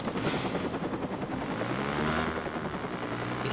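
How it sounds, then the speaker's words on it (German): A helicopter in the video game Watch Dogs gives a steady, loud rotor drone. It runs without a break, mixed with dense rumbling game noise. "Was ist jetzt mit diesen Helikoptern?"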